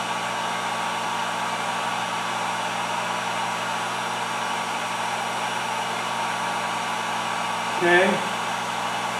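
Compressed air hisses steadily through a fluid bed used for powder painting fishing jigs, a constant broadband rush with a brief valve-adjustment flutter near the end and a single short spoken word.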